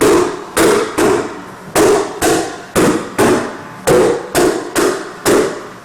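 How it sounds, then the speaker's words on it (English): A staple hammer drives staples into carpet pad in a loud, close series of about ten sharp strikes, each followed by a brief decay, landing at a brisk, slightly uneven rhythm. "Take your staple hammer and pretty much go crazy."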